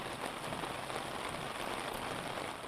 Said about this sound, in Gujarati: તો આપ જુઓ વરસાદ શરૂ થઈ ગયો છે